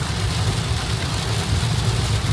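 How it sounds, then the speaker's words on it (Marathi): Heavy rain drumming on a car travelling on a highway, a dense steady roar with low road and engine rumble underneath, no voices. "एवढा झपाटलेला पाऊस आलाय"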